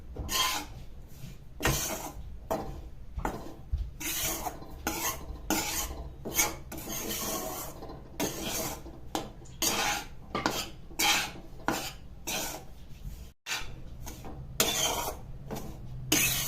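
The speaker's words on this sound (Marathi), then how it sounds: "पण सारखं हलवत राहायचंय नाहीतर मग खाली चिटकून ते करपण्याची शक्यता असते" Flour stirred continuously while dry-roasting in a pan, giving repeated rhythmic scraping and rasping strokes of a spoon against the pan surface, close and fairly loud, with brief pauses between bursts.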